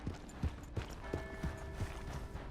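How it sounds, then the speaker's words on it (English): Horse hooves clip-clop at a steady walking pace in the Red Dead Redemption 2 western video game, faint and even, with a steady tone underneath. "Hey! My horse!"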